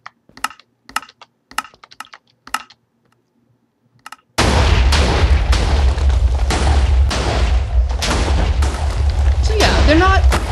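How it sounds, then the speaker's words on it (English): Liberty Prime's twin shoulder guns in a video game fire in a loud, dense burst of rapid booming shots after a stretch of keyboard typing, with a voice talking alongside. "The shoulder guns are rapid firing and are quite fun."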